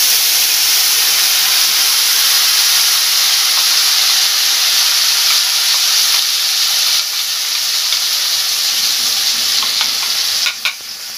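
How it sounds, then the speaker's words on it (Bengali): Ground spice paste frying and being stirred in a hot pan for a paneer curry, a loud, steady, close sizzle and hiss that runs unbroken, with a few faint scrapes near the end. "এবার একটু ভেজে নেব। এবার বাটা মশলাটা দিয়ে দেব।"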